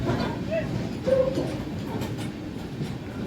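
Kerala Express sleeper-class train pulling out of Khammam station, a steady low rumble and rattle of carriages heard from inside, with a brief faint squeal and a voice talking over the noise.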